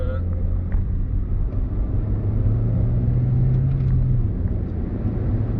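A 2003 Toyota Yaris with a 1.5 VVT-i engine drives along a road leaving town, its steady engine hum and tyre rumble close and continuous, with a faint rising engine tone partway through.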